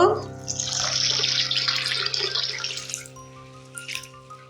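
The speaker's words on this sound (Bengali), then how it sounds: "সাবুদানাটাকে এখন আমি তিন থেকে চারবার জল পাল্টিয়ে ধুয়ে নিব" Sago pearls are rinsed in a bowl of water, a loud sloshing pour and swirl that fades into lighter splashing and a few drips, with steady background hum.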